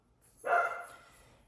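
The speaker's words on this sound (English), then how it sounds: "So you might hear him barking in the background." A single short bark from a dog playing with a big Purina milk bone, faint and a little distant, heard alone in an otherwise quiet room.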